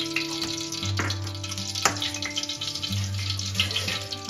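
A spoonful of ghee hits hot oil in a home kitchen pan for kosha mangsho with basanti pulao, giving a steady close sizzle with a low hum underneath and no talking.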